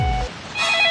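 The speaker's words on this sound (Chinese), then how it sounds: "哎，是电话" A telephone rings with a short electronic tone, bright and clear, following a low rumble, heard alone without voices.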